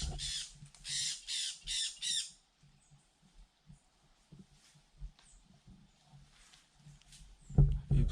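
Parrots squawk loudly in a tree out in the hills, several harsh calls in a quick burst during the first couple of seconds, followed by quieter scattered rustles, footsteps and a louder thump near the end.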